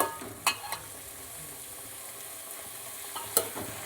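Undhiyu vegetables such as tindora, potatoes and val beans frying in a pan with a steady soft sizzle, broken by a few sharp clinks and scrapes of stirring near the start and end.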